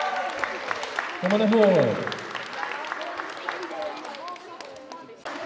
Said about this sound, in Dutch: Groot applaus voor de Hoeksteen Boys met de eerste plaats